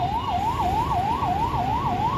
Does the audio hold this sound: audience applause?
no